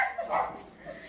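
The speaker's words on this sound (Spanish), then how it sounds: "Decirle que no molesten al perrito porque como ladra" A small dog barks once or twice in quick, fairly close yaps, the second ending in a thinner whine-like tail.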